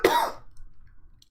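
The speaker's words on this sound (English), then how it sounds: "Sorry about the cough." A single short cough, close and fairly loud, ending quickly and followed by near silence.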